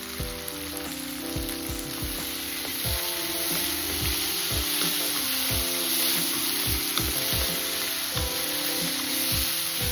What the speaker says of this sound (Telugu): ఇప్పుడు ఒక అర స్పూను అల్లం వెల్లుల్లి పేస్ట్ వేసేసుకోవాలి.